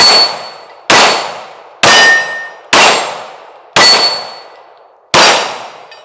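Six sharp metallic clangs from Sig P365 Fuse pistol rounds striking steel targets, spaced roughly a second apart, each ringing and decaying before the next, loud and close with no talking.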